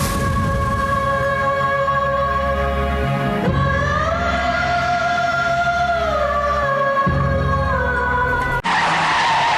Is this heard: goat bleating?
no